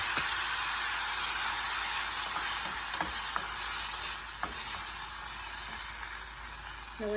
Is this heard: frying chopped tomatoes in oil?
yes